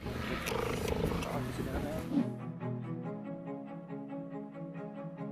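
A cheetah greets a person with a rhythmic, throaty purring rumble. The sound pulses steadily after a noisy, scuffling start.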